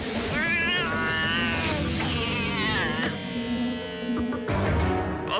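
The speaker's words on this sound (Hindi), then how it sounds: "और अगर आपको अपनी बिल्ली को पेड़ से उतारने में मदद चाहिए" A cat meows in a long, wavering, drawn-out cry, followed by a shorter second call, heard up close and clear with a brief clatter near the end.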